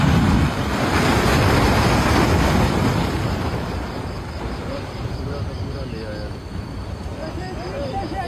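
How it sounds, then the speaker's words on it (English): Wind-driven waves slam into a coastline in a loud, continuous roar of surf, buffeted by heavy wind noise on the microphone, while people's voices sound faintly beneath it. "Powerful wind-driven waves slam into the coastline while stunned people watch in fear."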